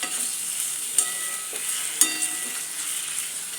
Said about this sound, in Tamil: இதை மாத்திரம் நம்ம நல்லா வதக்கி எடுத்துடலாம்.